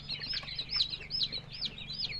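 Newly hatched Andijan chicks cheep in a busy chorus of high, rapid peeps, close and continuous over a low steady hum.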